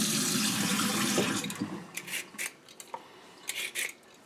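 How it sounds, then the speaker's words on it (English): Vegetables, cauliflower for a vegan soup among them, are rinsed under a running kitchen tap: a steady broadband rush of flowing water for the first second and a half, then broken splashes and trickles as the stream is interrupted. "So I'm just rinsing these off as I go."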